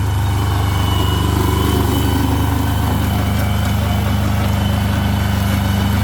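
An old Japanese Kubota B-10 small used tractor idles close by, its engine giving a steady low rumbling drone with a constant mechanical hum and no change in pace throughout.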